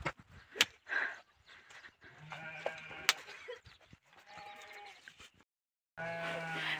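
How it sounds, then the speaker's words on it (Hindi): Sheep bleat repeatedly while being herded out of a shed in Himachal Pradesh, several overlapping wavering calls near and far, with short gaps, one louder burst at the end, and faint voices and shuffling between cries. "यहाँ पे भेड़े निकाल रहे हैं हॉल से बाहर"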